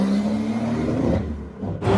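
A diesel sports car accelerates hard at close range, a steady engine drone that cuts off abruptly near the end before a brief burst returns, with no voices over it.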